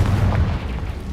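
The Confringo blasting spell exploding in Hogwarts Legacy, a brief, deep boom with a rumbling low-end thump that fades within about a second, with no voices.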